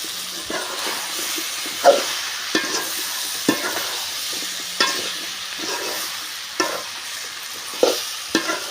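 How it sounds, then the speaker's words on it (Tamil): Eggplant and drumstick pieces sauté in hot oil for a Tamil kara kuzhambu, a steady close sizzle broken by sharp scraping stirs of a spoon against the pan, alone without talk. "இதையும் சேர்த்து எண்ணெயிலே வந்து நல்லா வதக்கி விட்டுடலாம்"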